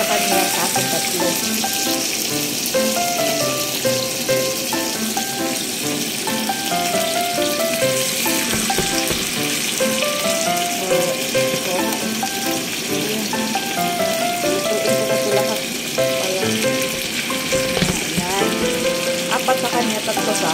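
Lettuce and garlic fry in oil in a home kitchen, a steady, dense sizzle running unbroken from start to finish under soft background music, with no clear voices.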